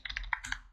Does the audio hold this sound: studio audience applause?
no